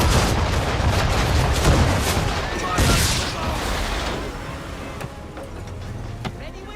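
Naval battle in Assassin's Creed III, ship cannons booming in a dense, overlapping barrage, then tailing off into rumble and scattered later blasts, with shouted voices mixed in.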